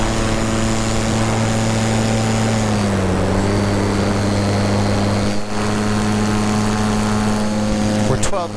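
Electric paramotor propeller motor droning steadily in flight during a slow climb, a loud sustained tonal hum with strong harmonics that dips slightly in pitch midway, close and continuous with wind noise.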